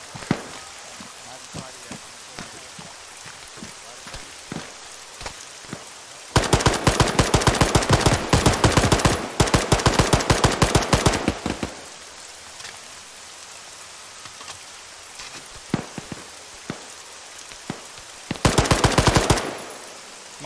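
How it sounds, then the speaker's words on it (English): Automatic gunfire from a military squad training video game, with a dense sustained burst lasting several seconds, a shorter burst near the end, and scattered single shots and clicks between them. "Be advised, Mike is shooting"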